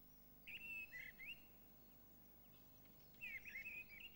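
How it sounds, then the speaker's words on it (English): A missel thrush singing short, strident, flute-like phrases, two separate bursts of clear whistled notes with a pause between, fairly faint over a quiet outdoor background. "The song may be heard as early as February and consists of short, flute-like phrases, more like a blackbird's than the song thrush's, but quite strident."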